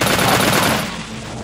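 A short, loud burst of rapid automatic gunfire rattles close in Vampire: The Masquerade, then tails off into a fading echo.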